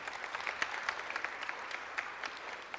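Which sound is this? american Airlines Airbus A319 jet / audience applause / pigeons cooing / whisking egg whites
audience applause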